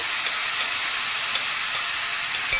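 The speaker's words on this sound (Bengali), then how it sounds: "এবার আগে থেকে মেখে রাখা চালটা এর মধ্যে দিয়ে দেব।" Marinated rice frying in a hot pan with raisins and bay leaf gives a dense, even sizzle that stays loud and close throughout, with a few faint clicks of stirring.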